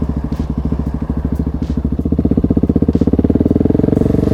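A motorcycle engine runs steadily on a solo ride, its loud, pulsing exhaust note throbbing rhythmically and building slightly in intensity toward the end.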